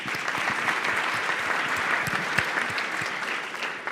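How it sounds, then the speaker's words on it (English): A crowd applauding steadily, dense clapping from many hands sustained throughout at a fairly loud level. "Quick applause for Nate."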